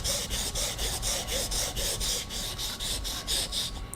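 A knife blade is sharpened on a wet whetstone: steady back-and-forth rasping strokes, about fifteen in quick, even rhythm, close and continuous, with no voices.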